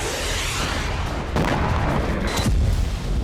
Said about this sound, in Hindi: यही वजह है कि लेबनान में इजराइल की बमबारी फिर से शुरू हो गई है।